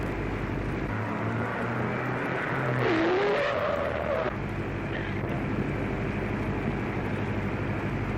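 A car speeds along a road in an early-1930s setting, its engine a steady loud roar throughout, with a brief rising whine near the middle and no talk over it.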